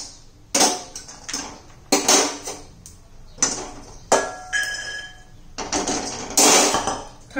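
Roasted peanuts being scooped out of a pan, with several sharp metallic clanks and scrapes of a utensil against the pan spaced a second or so apart, close and fairly loud.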